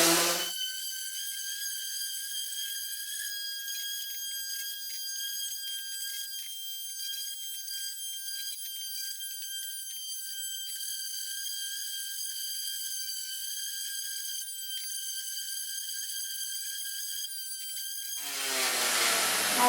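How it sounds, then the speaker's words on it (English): A power sander sanding an LED video panel runs continuously with a steady, high-pitched whine, loud and close, starting and winding down at the ends. "Okay, time to do the sanding."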